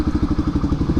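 A motorcycle engine idles close by as the bike is parked, a rapid, even run of low thumping pulses with a faint rattle, lasting only about a second.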